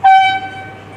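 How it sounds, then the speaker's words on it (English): A single sharp whistle blast at a polo match, loud and tonal. It is brief, lasts about a second and fades into quiet background. "Nice pass to Yunus Bagajo, but the whistle goes."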